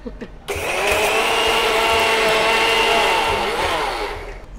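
Kitchen mixer grinder powdering sugar with cardamom for rasmalai modaks, a loud sustained motor whine that starts abruptly and runs steadily for about four seconds with a gritty, rattling edge.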